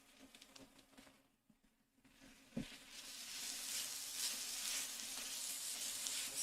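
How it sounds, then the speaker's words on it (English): Spinach and onions sizzle in an oiled pan, quiet at first, then a sharp knock before the frying hiss swells and holds, fairly faint. "Stirring the spinach and the onions."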